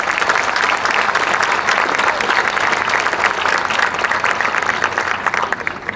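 Audience at a fair queen pageant applauds the contestants, a dense, steady wash of many hands clapping throughout, loud and close, with no voices rising above it.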